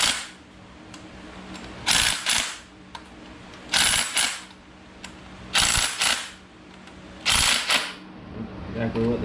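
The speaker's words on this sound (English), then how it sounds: "torque them. Make sure you get them to spin." A ratchet wrench tightens bolts on a new crate engine for a 56 race car, sounding in short clicking bursts of a second or so, repeated about every two seconds at close range.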